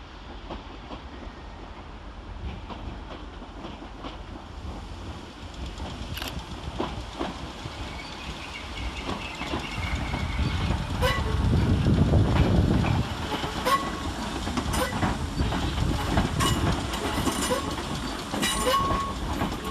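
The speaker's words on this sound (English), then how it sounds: "Arriving to terminate with a Merseyrail electric service off Liverpool Central" A Merseyrail electric train from Liverpool Central pulling into Chester railway station, a low rumbling approach that swells midway with wheel clatter and scattered metallic clicks and squeals, heard close on the platform without speech.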